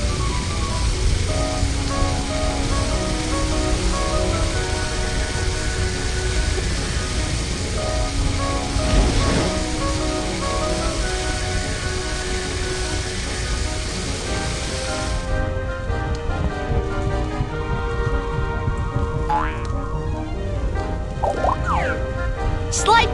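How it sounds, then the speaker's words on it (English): In a fire truck rescue game, a water gun sprays onto a fire as a loud, steady rushing hiss, heard over game music and effects, cutting off partway through with chimes following. "Slide the water gun to put out this terrible fire."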